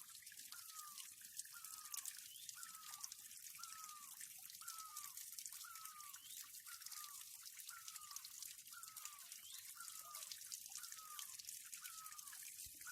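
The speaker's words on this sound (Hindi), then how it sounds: "अब सुनिए पानी की मधुर आवाज़।" Water trickles and splashes steadily from a mountain spring at a village water source, with a regular series of small plinking drips about once a second.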